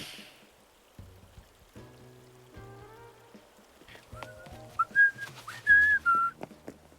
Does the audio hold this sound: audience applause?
no